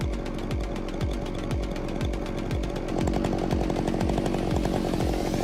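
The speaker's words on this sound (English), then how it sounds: "He's out here using a chainsaw." A chainsaw cutting into a big rotten hemlock tree, its engine droning loud and steady with a repeating pulsing rhythm that grows slightly louder partway through, no talking.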